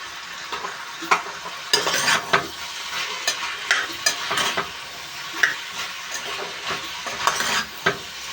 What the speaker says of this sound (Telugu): ఇలా బంగాళదుంప ముక్కలు వేసుకున్నాం కదండి ఇవి కూడా ఫ్రై అయ్యేలాగా ఫ్రై చేసుకుంటూ ఉండాలి